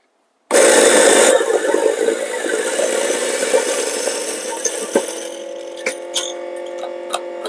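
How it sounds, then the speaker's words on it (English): An electric coffee grinder with 90mm burrs grinds a dose of coffee beans, starting abruptly with a loud whirring grind that gradually thins to a lighter hum, with rattles and clicks toward the end. "and then we're going to grind, right?"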